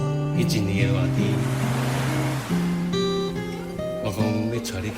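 Ocean waves wash in as a steady, broad surf hiss under a singing voice and musical accompaniment, a continuous added sound effect without distinct breaks.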